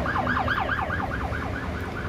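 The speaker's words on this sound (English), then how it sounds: "There's another ambulance coming." Ambulance siren with a rapid rising-and-falling wail, steady and fairly loud throughout, heard with no talking and a faint low traffic rumble beneath.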